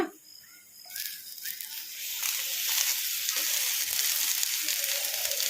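Mint leaves and green chillies sizzle in a pan for mint chutney, the frying hiss rising from soft to a steady, close crackle as they are tossed together.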